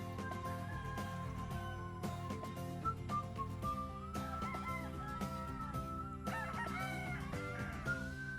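Gamefowl roosters crow repeatedly, and hens cluck now and then, over a dense, continuous backdrop of birdsong and whistling tones.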